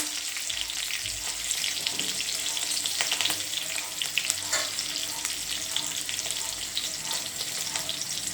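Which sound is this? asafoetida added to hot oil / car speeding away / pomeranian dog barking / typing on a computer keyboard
asafoetida added to hot oil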